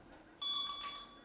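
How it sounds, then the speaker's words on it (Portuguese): A gas detector alarm starts abruptly and keeps sounding as a loud, steady electronic tone with ringing overtones, close by, with no talk over it. "Esse aqui é o alarme."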